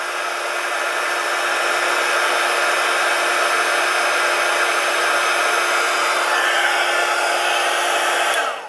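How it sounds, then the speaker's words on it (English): A heat gun blows steadily while warming a Philco Bakelite block capacitor, producing a continuous, even, loud hiss-like roar that runs without pause for the whole stretch, alone with no talking. "You just move your heat iron around, or your heat gun around to different sides so you can heat it up."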